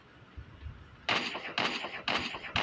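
Four sharp, loud gunshots ring out at roughly half-second intervals in a shooting video game using a headshot macro, each a bright crack with a short tail, after a quieter stretch of low background rumble.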